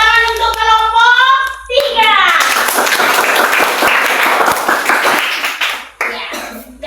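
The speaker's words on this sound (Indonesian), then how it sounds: "Oke, tepuk tangan untuk kelompok" A classroom full of Indonesian children claps loudly and steadily for several seconds for a group, with a sung or chanted voice just before and a few voices after.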